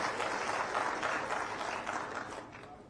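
A crowd at a farmers' festival event on a university campus applauds steadily for a few seconds, a dense wash of clapping that fades slightly toward the end.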